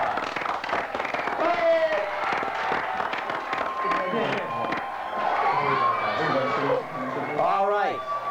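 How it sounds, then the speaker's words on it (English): A studio audience at a 1991 Challenge Bowl quiz match cheers, shouts and claps for the winning team, with excited voices and whoops rising over a steady crowd roar that lasts the whole stretch. "Everyone give both teams a big round of applause."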